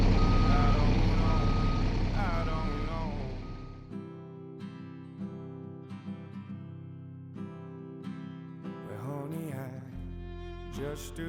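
An RV bus backs into a boondocking spot in Montana with loud engine rumble at first, then a long series of evenly spaced reversing beeps carrying on after the engine noise drops.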